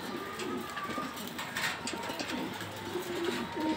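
Racing pigeons of a club breed coo softly and repeatedly up close, with low throaty murmurs over steady indoor background noise and no talk.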